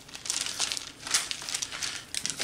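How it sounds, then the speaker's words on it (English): Parchment paper crinkles and crackles in quick bursts as it is folded over and peeled back from a smoked jalapeño and cheese sausage roll, close up and alone. "I'm just gonna fold it over like so, and kind of peel the paper back as you go along"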